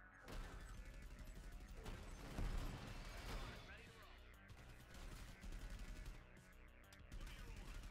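Gunshot noise in the Xbox One game Hellfront: Honeymoon, a dense, continuous rattle of rapid fire and crashes in the game mix, with a player talking over it.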